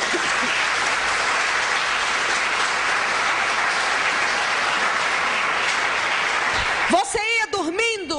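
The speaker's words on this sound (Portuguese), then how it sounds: "Aplauda ao Senhor." A church congregation breaks into a dense, continuous wash of applause for several seconds, steady and loud, before it drops away and a voice begins talking.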